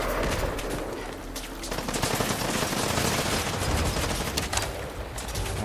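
Rapid automatic gunfire rattles continuously in a Fallout video game battle at an assembly plant, dense bursts of shots blending into a steady fusillade at moderate level.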